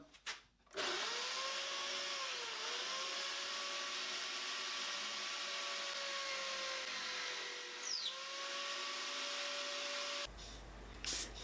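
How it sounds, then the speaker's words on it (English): A homemade horizontal boring machine runs steadily with a loud, sustained motor whine whose pitch dips briefly now and then, before cutting off near the end. "This is the horizontal boring machine that I made."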